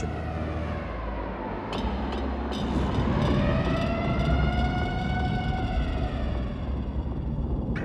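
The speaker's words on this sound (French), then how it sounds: "les sirènes lançaient leur alarme au passage des bombardiers au-dessus d'Hiroshima" Air raid sirens wailing, rising and falling slowly over a loud rumbling background as bombers pass over Hiroshima, sustained and fairly distant.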